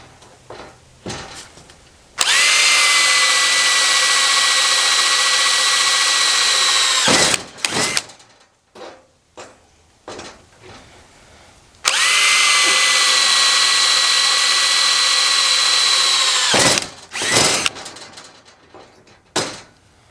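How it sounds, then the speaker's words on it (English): A power drill with a 3/16 bit and cutting fluid whines hard into a steel I-beam in two long bursts of about five seconds each, with scraping and clanking between and after them. "got my 3/16 drill."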